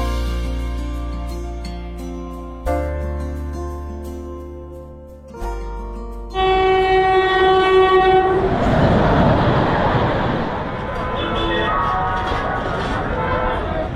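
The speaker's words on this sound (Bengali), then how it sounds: "বারো 813 স্টিল এক্সপ্রেস ধরে টাটানগর যাব" The Steel Express train at a railway platform: long, loud, sustained horn blasts come first, then a heavy rolling rumble and clatter of the moving train that builds and stays close to the end.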